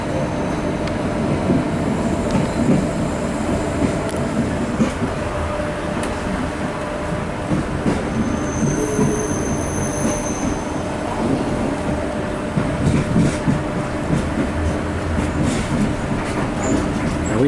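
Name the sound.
passenger train running along the Spanish coast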